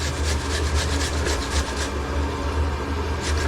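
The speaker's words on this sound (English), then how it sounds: "this is just a regular grinder. Just grind the potato." Potato being grated by hand on a regular grater for hash browns, a steady close rasping scrape repeating in quick strokes throughout, with no talking.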